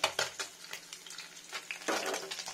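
Fish pieces frying in a pan over low gas: a soft, steady sizzle at close range, broken by stirring scrapes and light clinks of a utensil against the pan.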